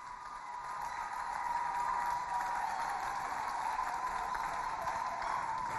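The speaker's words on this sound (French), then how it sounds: "Sous vos applaudissements." An audience applauds at a ceremony honouring a Chadian women's NGO leader, a dense sustained wash of clapping and crowd noise at even volume, with a steady tonal hum running underneath.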